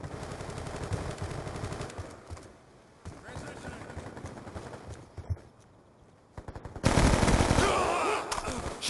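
Rapid automatic gunfire in a multiplayer hardpoint shooter game, bursts rattling under radio-style voice callouts, with a louder, denser volley near the end.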